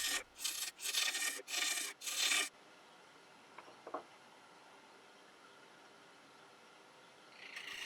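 A 1-inch spindle roughing gouge cuts laburnum wood spinning on a lathe, giving four loud rasping bursts in quick succession before dropping to a quiet, steady lathe hum with a few faint scrapes.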